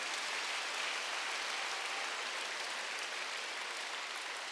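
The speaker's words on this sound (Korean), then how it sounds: "박수 세게 치세요." A church congregation at a Wednesday worship service claps hard in a steady, dense wash of applause that runs unbroken for a few seconds, fairly quiet and with no voices over it.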